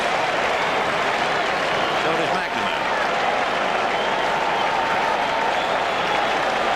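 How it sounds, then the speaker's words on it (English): A large crowd at Fenway Park applauds and cheers steadily throughout during the 1986 World Series game between the Mets and Red Sox, a broad, sustained roar with a commentator talking over it. "Crowd really alive now, trying to root the Oil Can out of it."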